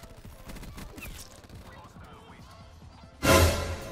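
Video game gunfire, scattered shots and bursts under a player's voice, followed by a loud sudden crash-like blast near the end.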